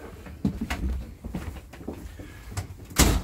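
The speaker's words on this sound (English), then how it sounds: "So we come on inside and we'll start to take the door down." Inside a 2019 Viking Epic Series 2108ST pop-up folding trailer, the door is taken down, giving a run of close knocks, clacks and sliding scrapes with a sharper bang near the end.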